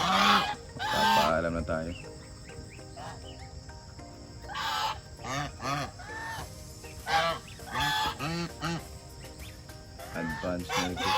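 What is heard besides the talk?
geese honking on a farm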